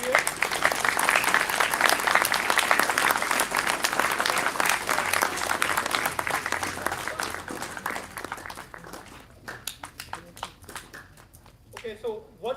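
Steady audience applause at a cricket academy event, dense clapping from a crowd that carries loudly for several seconds, then thins out to scattered claps, with a voice faintly coming through near the end.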